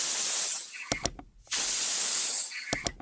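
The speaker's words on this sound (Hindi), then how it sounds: "देखिए कुकर की 3 सीटी आ चुकी है।" Steam hisses loudly in two long bursts, each cut off by a few sharp clicks and rattles, a pressure cooker whistling nearby while cooking mutton mince with bamboo shoot on a gas stove.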